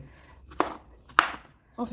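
Three sharp chopping blows, spaced apart, each a crisp knife strike into fibrous banana stem, close up with quiet moments between.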